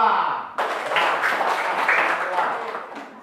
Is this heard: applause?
yes